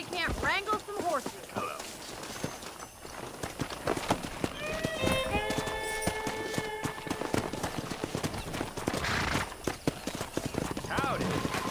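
Horses in the Red Dead Redemption video game, steady clip-clop of running hooves with several whinnies, heard alongside speech.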